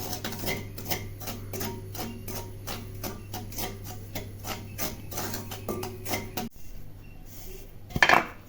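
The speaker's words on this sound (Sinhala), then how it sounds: "කුරක්කම් පිටි කෝප්පයක් විතර දාලා ඒක පොඩ්ඩක් බැද ගන්නවා" Finger millet flour roasts in a pan for honey mora, with a spoon scraping and clinking against the metal in a steady, regular rhythm. The stirring stops partway through, then a brief clatter follows.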